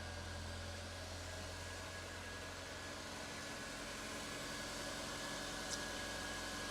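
A 2002 Honda S2000's engine idles smoothly and steadily at close range, a continuous low hum with a faint high whine, with no knocks or clatter and no talking.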